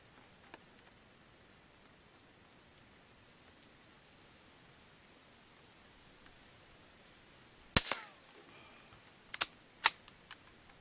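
A Remington 510 Targetmaster .22 rifle fires outdoors in a quiet setting: one sharp crack after a long lull, then a few quicker, lighter shots spaced about half a second apart.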